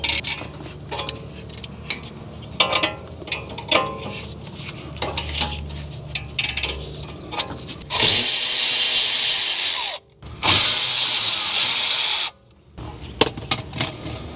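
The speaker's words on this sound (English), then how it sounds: "with a 7 millimeter hex, we're going to loosen and remove these two caliper slide pin bolts" A 7 mm hex bit loosening caliper slide pin bolts on an Audi A4 2.0L front brake: clinks and tool handling, then two sustained power-tool whirring runs of about two seconds each, separated by a short pause, close and loud.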